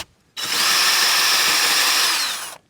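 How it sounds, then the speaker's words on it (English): Power drill boring pin holes through timber frame rafters, one sustained whining run of about two seconds that starts and stops abruptly, close and loud, with no speech. "so the bit doesn't grab it and Start drilling."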